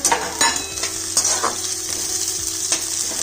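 Chopped onion and French beans frying in a pan, a bright close sizzle with a few sharp stirring clacks and scrapes over a brief, steady hiss.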